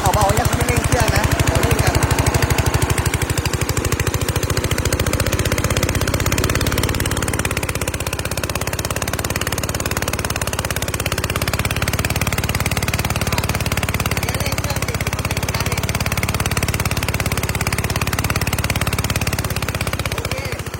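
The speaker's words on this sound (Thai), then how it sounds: "ก็ต้องดูใจครับ ปริมาณน้ำอันนี้ไม่เร่งเครื่องยนต์นะครับ" A Tomochi 8.5 horsepower gasoline water pump engine runs at a steady idle close by, with a continuous throbbing chug and someone speaking over it now and then.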